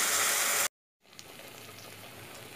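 Spice paste of ground nuts, raisins, poppy seed and ginger sizzling and frying in hot oil for a Bengali matar paneer curry, a steady close hiss that cuts out briefly and then resumes more softly.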